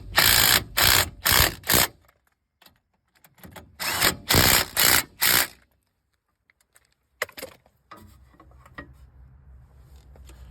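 Short bursts of an impact tool on lug nuts of a 2012 Ford F150 wheel, two clusters of four rapid hammering bursts with quiet gaps between, then a faint rattle and low hum.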